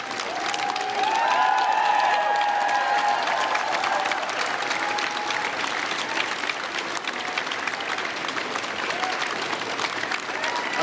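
Applause inside Number 10 Downing Street as the new Prime Minister arrives with his wife, dense sustained clapping from a crowd with a voice speaking over it early on.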